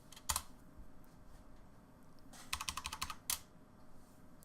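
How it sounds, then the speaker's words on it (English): Clicky computer keyboard typing up close: a short burst, a pause, then a rapid flurry of keystrokes and a final sharp tap. "Sorry for my loud keyboard"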